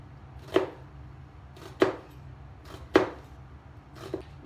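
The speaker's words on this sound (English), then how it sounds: "very, very finely minced onion" A knife chops an onion on a cutting board for fine mincing, four sharp, moderately close strikes about a second apart over a quiet background hum.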